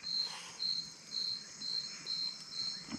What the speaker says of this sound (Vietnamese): Dế hả?